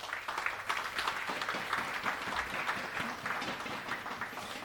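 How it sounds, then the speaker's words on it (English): A roomful of people at an awards judging event bursting into applause, sustained, fairly even clapping from a sizable crowd heard at moderate volume throughout. "Give yourselves a big round of applause."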